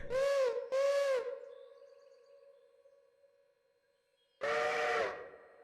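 A Virginia and Truckee one-chime steam whistle in the Railroader game gives two short high-pitched blasts that ring out and decay, then after a pause a third longer blast, loud and clear with no talk.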